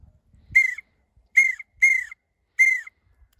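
A mouth-blown duck call whistle imitating a male pintail duck gives four short, clear whistled calls in an uneven rhythm, loud and close, with no talking.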